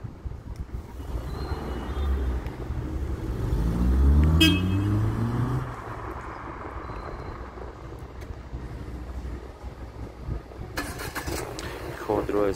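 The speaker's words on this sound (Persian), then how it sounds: "خودرو استارت خورد" A Renault Duster engine is started by remote start: it cranks and catches, rising to a steady, fairly close idle rumble, with a brief chirp-like tone near the moment it fires.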